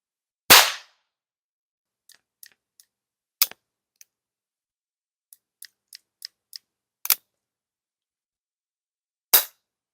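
Water-resistant percussion caps are struck in a quiet setting: a sharp loud crack opens, then scattered faint clicks and ticks, two more distinct louder cracks midway and near the end, with no voices.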